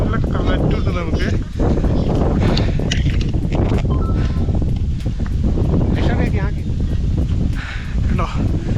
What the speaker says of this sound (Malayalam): നല്ല കാറ്റുണ്ട് നമുക്ക്.